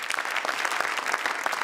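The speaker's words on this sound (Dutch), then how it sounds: "Een heel hartelijk applaus voor Frits Spits." Steady applause from an audience at an award ceremony, a dense even patter of clapping hands that holds at a constant level throughout.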